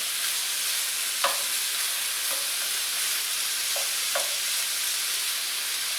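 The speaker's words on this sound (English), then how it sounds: "as it's cooking, we're just going to keep flipping it, feeding it" Beef for spicy Mongolian beef sizzles in a hot pan with a constant bright hiss. A few soft clacks from flipping sound close by, and no one talks.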